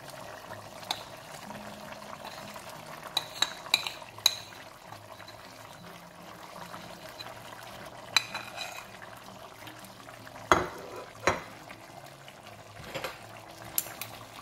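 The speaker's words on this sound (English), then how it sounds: "And then you're going to stir the peanut butter through." Peanut butter stirred into a Penang chicken curry, giving quiet, wet, sloshing stirring with a few soft spoon knocks against the pot.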